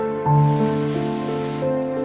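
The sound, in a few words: voice imitating hissing s sound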